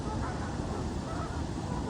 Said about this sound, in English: she's feeding the geese.